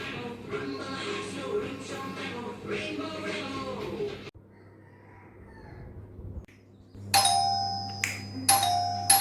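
A doorbell rings indoors with bright, sustained chime tones, sounding twice near the end after background chatter and household noise.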